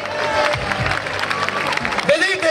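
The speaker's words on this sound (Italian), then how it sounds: "un applauso!" Audience applause at a football team presentation event in Motta San Giovanni, a brief burst of crowd clapping and cheering mixed with voices and babble.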